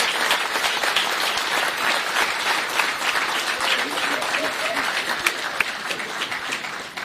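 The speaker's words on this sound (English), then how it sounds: "Big round of applause for those earning this departmental commendation." Sustained, dense audience applause fills a public safety awards ceremony honoring a departmental commendation, steady clapping from a sizable crowd that holds for several seconds before tapering slightly.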